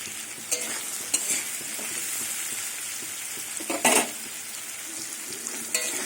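Pumpkin pieces fry in a pan, with a steady sizzle and several sharp clinks and scrapes of a spatula stirring against the metal.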